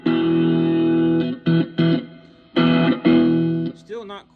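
An electric guitar runs through a Joyo Oxford Sound distortion pedal, playing loud sustained chords in separate bursts with short gaps between them, then a brief bent, wavering phrase at the end.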